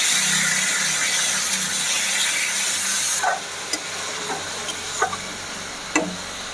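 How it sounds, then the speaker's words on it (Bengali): Green chillies, salt and turmeric masala for a fish curry sizzling loudly in hot oil, a steady close hiss that drops partway, followed by a few sharp spatula scrapes against the pan. "এখানে 7টি কাঁচা লঙ্কা চিড়ে নিয়েছি দিয়ে দেবো, দিয়ে মশলার সাথে ভালোভাবে কষিয়ে নেব।"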